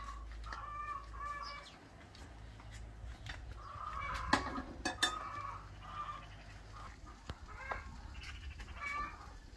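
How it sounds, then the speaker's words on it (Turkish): Hens clucking in short, repeated bursts at a moderate distance, with occasional sharper squawks over a low background rumble. "Tavuklar da yumurtladı herhalde bu arada. Ses veriyor."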